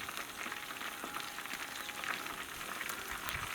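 Pike frying in a pan at a Kolyma camp kitchen in Yakutia, a steady close crackling sizzle of hot oil with small pops throughout, no voices.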